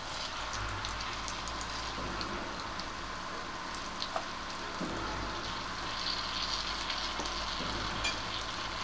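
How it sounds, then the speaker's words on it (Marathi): Okra frying in hot oil, a continuous soft sizzle with scattered crackles and pops, plus a few light scrapes of stirring, heard close and fairly quiet. "भेंडी घालूया त्याच्यामध्ये एकदम सगळी भेंडी घालायची नाही आहे जेवढी तेलामध्ये मावतील तेवढीच भेंडी आपल्याला घालायची आहे"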